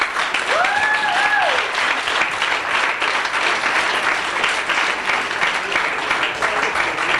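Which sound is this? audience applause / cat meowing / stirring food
audience applause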